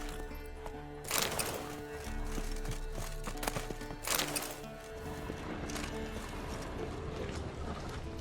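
Horse hooves clop faintly in The Witcher 3 video game, with a couple of louder broadband bursts over a steady ambient outdoor bed and low drone.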